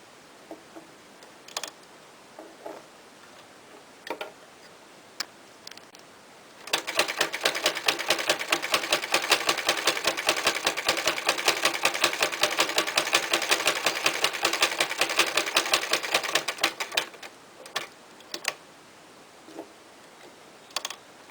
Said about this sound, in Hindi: तो मैं इन्हें स्टिच करूँगी आपस में।